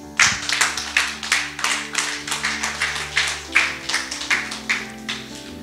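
A church congregation claps in a steady, rhythmic beat, sharp hand claps repeating about twice a second with a sustained organ-like tone underneath and no talking.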